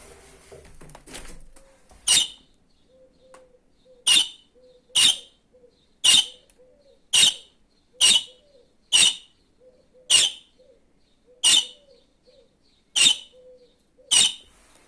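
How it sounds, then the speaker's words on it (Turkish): Sharp, high budgerigar chirps repeat at fairly regular intervals, each one short and clear against near silence. "Duydun mu kuşların sesini sen?"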